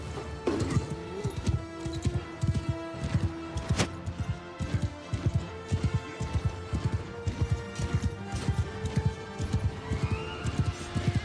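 Horses galloping across a video game battlefield, a steady rapid drumming of hoofbeats that stays loud and close for the whole stretch, with scattered clashes of battle noise.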